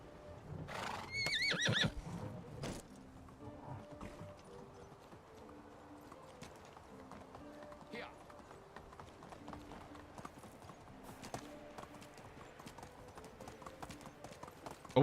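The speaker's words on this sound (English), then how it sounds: "Oh, we got another baby horse." A baby horse in the video game Medieval Dynasty gives a high, shrill whinny near the start, with soft clip-clopping hooves continuing over quiet game music.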